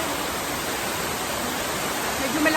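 Rushing water pours continuously at a waterfall on Ping Nam Stream in Fan Ling, Hong Kong, a dense, steady hiss-like roar close by with no breaks.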